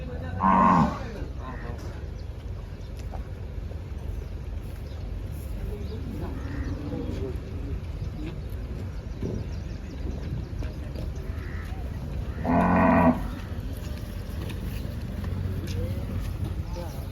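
Two loud, drawn-out cow moos at a cattle market, one near the start and another much later, rising over a steady background of crowd murmur and outdoor noise.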